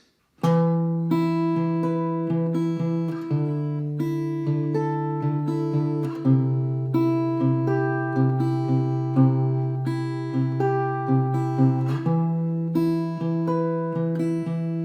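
Steady fingerpicked guitar plays a chord progression, individual plucked notes rolling in an even rhythm over a low bass line, with no voices.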